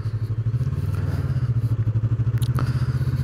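A Yamaha MT-03 motorcycle ridden near Gore gives a steady, loud, close engine drone with a rapid throbbing pulse and faint road clatter throughout.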